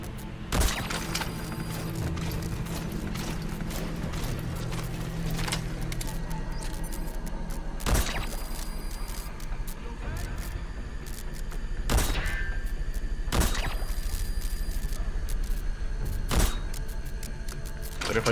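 Gunfire from the video game Metal Gear Solid V: The Phantom Pain, with sharp separate shots scattered irregularly over a steady background of game ambience and impacts.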